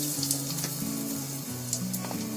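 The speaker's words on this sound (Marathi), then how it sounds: "आता त्याच्यामध्ये थोडासा चिमटीभर हिंग टाकायचा आहे" A pinch of asafoetida hitting a spoonful of hot oil in a pan, giving a soft, close sizzle with a faint hissing texture and low background hum throughout.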